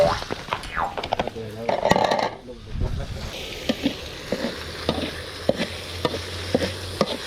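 Food sizzles and clatters in a large wok over high heat, stirred briskly with scraping metal hits, and a voice speaks briefly in Thai partway through.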